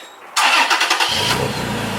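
A third-generation Toyota Tacoma pickup truck engine cranks briefly and catches, settling into a deep, loud rumbling idle, close by.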